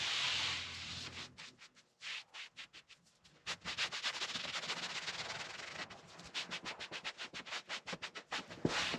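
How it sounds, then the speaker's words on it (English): A rag wiping excess stain off walnut wood plaques, giving fast, rhythmic rubbing strokes that come in steady bursts with short pauses between passes, close and clear. "you just brush it on and then you take a rag and you wipe off the excess"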